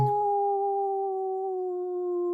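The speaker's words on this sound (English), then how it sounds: "He runs away, howling in pain." A wolf in the Three Little Pigs story howls in pain: one long, steady, tonal howl held for about two seconds, loud and alone.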